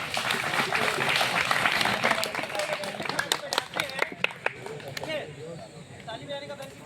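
NCC cadets at a career counselling session break into dense, loud applause that thins into scattered individual claps, with voices coming in toward the end.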